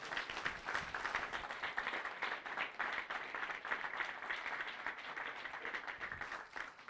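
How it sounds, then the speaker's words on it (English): A hall audience at a bench press championship gives the athletes a sustained round of applause, steady dense clapping heard faint and distant throughout. "please give them a big round of applause"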